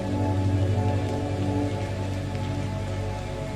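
Steady rain falls in a continuous, even wash of sound, close and moderately loud, with no voices and no breaks across the few seconds.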